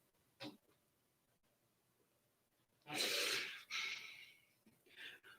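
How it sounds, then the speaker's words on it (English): A person breathes heavily, a few sharp, loud huffs and exhales, with one brief puff early on and then a burst of strong breaths in a quiet room. "I can hear his breathing, but I can't see him"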